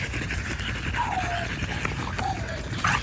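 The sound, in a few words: American Bully puppies whimpering and yipping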